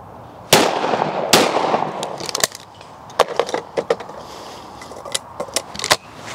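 A Miroku 6000 shotgun fires two sharp, loud shots about a second apart outdoors, followed by a series of lighter metallic clicks and clatters.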